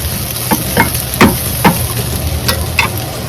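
Chilli paneer ingredients get stirred in a sizzling pan, a loud steady fry hiss with a series of sharp scraping strokes spaced about half a second apart, no talking.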